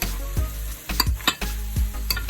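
Tinned mackerel and leek mixture stirred in a frying pan, with three or four scraping strokes of the spoon over a steady close sizzle.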